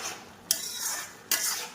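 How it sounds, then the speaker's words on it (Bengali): Fried spice mix is stirred into an egg and eggplant curry with two quick, quiet scraping strokes of a spoon against the pot, each a short hissing swish, with no one talking. "আমি ছড়িয়ে দিলাম ভাজা মশলাটা"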